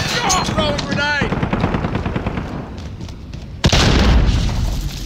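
Call of Duty: Modern Warfare multiplayer battle with a rapid burst of gunfire followed by a sudden loud grenade blast, with in-game voices and talk heard over the shooting.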